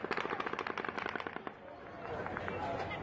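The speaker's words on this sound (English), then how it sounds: "He fires his 12th and final burst" Rapid bursts of automatic gunfire from the October 2017 Las Vegas mass shooting, a dense run of sharp cracks for about a second and a half, then fading into a rumbling wash of crowd noise and echo.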